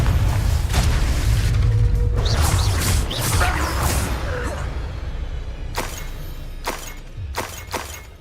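Confringo fire-blast spell explosions in Hogwarts Legacy, a dense sustained roar of crashing, booming blasts followed by several sharp separate bursts toward the end.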